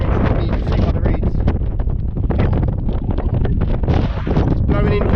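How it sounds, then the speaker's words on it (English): Strong easterly wind on an exposed hilltop buffets the microphone in loud, continuous roaring gusts, with heavy low rumble throughout. "when the wind is like this, it makes it very hard to go up and to breathe"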